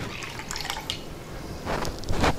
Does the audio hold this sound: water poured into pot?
yes